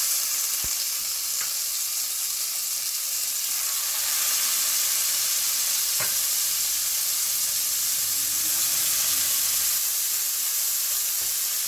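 Thick seasoned fillet steaks sear in a hot pan, a loud, steady sizzle and crackle that fills the whole stretch close up, with a few sharp pops and no talking.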